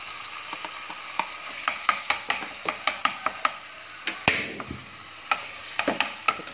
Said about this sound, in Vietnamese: Rồi mình phi hành vàng rồi cả nhà ơi. Và mình bỏ một chút thịt xay cả nhà.